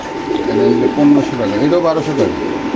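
Caged pigeons at a bird market coo in low, rolling, overlapping calls, fairly close and steady throughout, with people talking over them.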